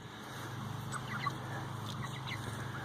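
Chicken clucking softly in a few short calls against a steady low background hum, faint and somewhat distant, with no talk.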